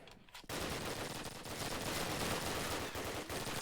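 PPSh submachine gun fire in a Call of Duty match, a sustained rapid burst of automatic shots that starts abruptly after a brief quiet moment and stays loud and dense throughout, with other gunfire mixed in.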